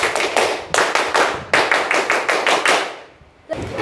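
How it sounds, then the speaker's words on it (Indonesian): A class performs the Indonesian scout clap, tepuk pramuka: loud, close group claps in a patterned rhythm of quick bursts separated by short pauses, ending with a brief gap before one final clap. "Tepuk pramuka sekali lagi."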